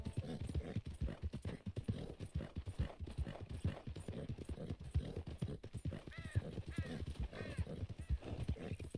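Horse hooves clip-clopping in Red Dead Redemption 2, a fast, close, continuous galloping rhythm with whinnies near the end and a voice talking over it.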